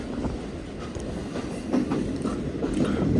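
A Green Line economy-class passenger train running on rails from Lahore toward Karachi, a steady close rumble of wheels with faint clicks and squeaks, rising slightly toward the end.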